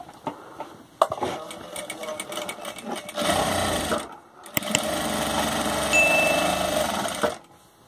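A sewing machine stitches a homemade cloth face mask in rapid mechanical bursts, first a choppy run and then a longer continuous stretch, separated by a short pause, with occasional clicks of handling.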